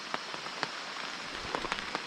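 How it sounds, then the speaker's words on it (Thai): Heavy rain pelts a tent in a forest, a dense steady patter with scattered louder drops striking close by, with no talk. "ได้ยินเสียงฝน อ๋อ ตกหนักเลยครับ ตอนเนี้ย"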